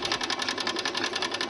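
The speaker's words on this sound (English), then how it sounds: "because the direction of the pulse is coming to the right, it is driving the right rotor. And this is on a large coil." A large 8-inch pulsed coil drives two 4-pole magnetic rotors, producing a fast, even, buzzing whir with a rapid rhythmic pulse that holds steady and close throughout, with no talk.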